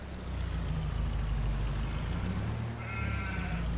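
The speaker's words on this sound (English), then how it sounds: "Sheep's are doing a fine job." Sheep bleating in the Farming Simulator 22 video game, a steady close blend of flock noise with a continuous low hum underneath, and no talking.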